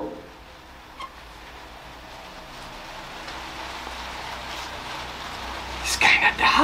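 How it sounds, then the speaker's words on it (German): Rain suddenly starts falling in a late-night horror video game, a steady broadband hiss that slowly swells and grows louder, with a brief crackling burst near the end. "Es regnet auch auf einmal."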